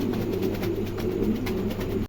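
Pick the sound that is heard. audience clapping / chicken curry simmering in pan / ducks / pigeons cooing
pigeons cooing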